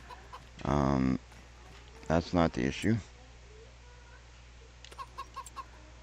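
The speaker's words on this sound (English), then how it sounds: "Let's take a look at our chickens here." Chickens and a rooster in a Farming Simulator 25 coop give a few short clucks and squawks in bursts, with someone talking over parts of it.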